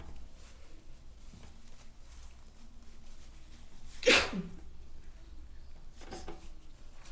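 A single sharp sneeze breaks a quiet room-tone background midway, followed later by a faint breathy sound; no speech.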